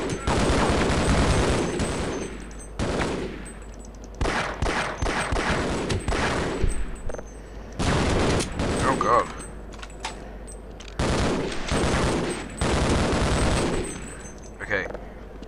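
Gunfire in the Half-Life video game while shooting enemies and turrets: loud, close, rapid bursts of shots that repeat in clusters throughout, with a voice talking at times.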